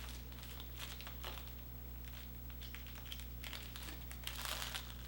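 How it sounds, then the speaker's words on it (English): Scissors cutting through thick fabric while sewing pattern pieces are cut out, close quiet crunching snips and crinkles in short irregular bursts over a low steady background hum. "this fabric's a little thick, so it makes it a little bit harder for my scissors to go through"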